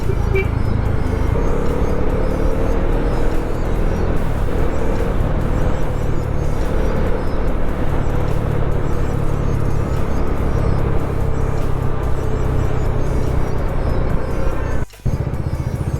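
Heavy stop-and-go city traffic in Bangalore with cars and buses, a loud, constant engine rumble and road noise close by, with a brief dropout near the end.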